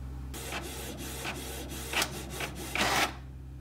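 An inkjet-style printer runs a print job on paper, feeding and printing with a series of rasping, rubbing passes over a steady mechanical hum, rising louder near the end.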